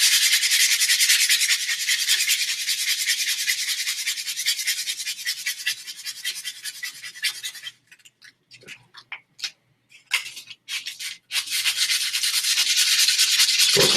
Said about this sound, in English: use the rest of this grit to take down the wand a little bit more.